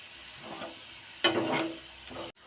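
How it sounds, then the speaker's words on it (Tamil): Leftover murukku cutlet mixture frying in plenty of oil in a pan, a soft sizzle that swells into a louder, brighter hiss for about a second, then cuts off abruptly. "இன்னும் கொஞ்சம் எண்ணெய் ஊற்றி நல்லா ஃப்ரை பண்ணிக்கிற வேண்டியதான்"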